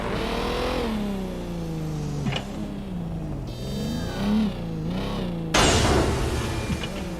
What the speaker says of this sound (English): Thing sounds like it's equipped with a motorcycle engine